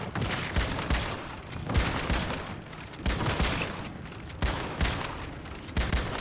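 Rapid game gunfire pounding a boss's weak spot in a looter-shooter boss fight, arriving in dense, loud bursts that repeat in a steady rhythm with brief gaps between volleys.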